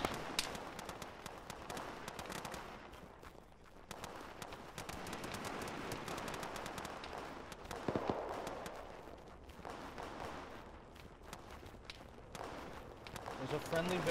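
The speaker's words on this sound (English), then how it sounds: "That is a lot of gunfire." Gunfire crackles through a military battle in the video game Arma, many quick, faint, distant shots popping irregularly over a low background for the whole stretch.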